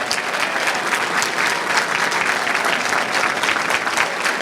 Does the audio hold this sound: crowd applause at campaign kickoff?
yes